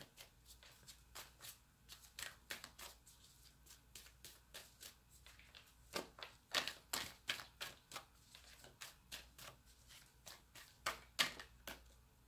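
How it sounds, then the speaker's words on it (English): Tarot cards being shuffled by hand, close and quiet, in repeated quick riffling bursts with short pauses between them. "I've been shuffling cards so much lately."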